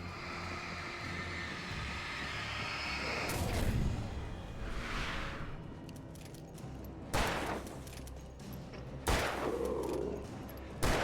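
Gunfire in the video game Alan Wake Remastered: a few sharp, separate shots spaced several seconds apart over a low rumbling game backdrop, with a whooshing sweep between them.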